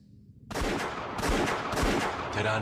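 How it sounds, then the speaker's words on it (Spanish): Several gunshots from Terán's gun at an execution, coming as loud, sharp bursts in quick irregular succession after a moment of near silence, close and with no talk. "Terán disparó varios tiros"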